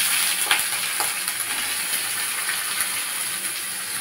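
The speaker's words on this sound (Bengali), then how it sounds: "পেঁয়াজ কুচিটা দিয়ে দেবো" Chopped onions frying in very hot oil for chicken kosha, a dense steady sizzle with occasional crackles and stirring, close and continuous.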